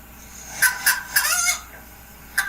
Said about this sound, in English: I spy something that makes a cluck sound.